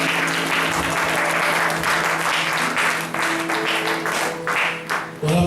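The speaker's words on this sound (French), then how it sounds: "Acclame le Seigneur Jésus-Christ." A church congregation applauding in praise of Jesus Christ, with sustained loud clapping from many hands that fills the room and continues without a break, while a steady tone hums underneath and faint voices mingle in.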